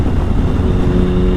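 A 2005 Triumph Sprint ST with its 1050 cc triple engine runs steadily and loud up close, a dense continuous rumble with no breaks and no voices over it.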